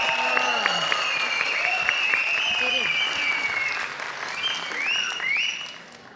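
An audience at a children's singing competition claps and whistles in a sustained burst, with shrill whistles rising above the applause and a voice speaking over it before the noise fades toward the end.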